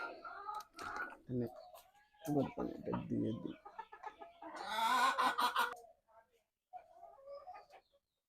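Native Bengali village chickens cluck in short bursts close by, several birds calling in uneven clusters with quiet gaps, while a person speaks in between.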